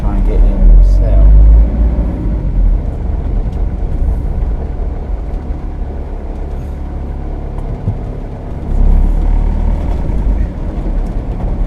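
A lorry drives past on a muddy country road with grassy verges, a steady loud rumble of engine and tyres that swells near the start and again toward the end, heard from close by inside another vehicle.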